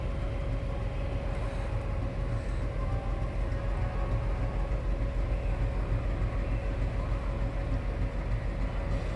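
A locomotive hauling the Balurghat–Howrah Tebhaga Express toward the yard gives off a continuous heavy rumble with a steady droning hum, heard from nearby without any break.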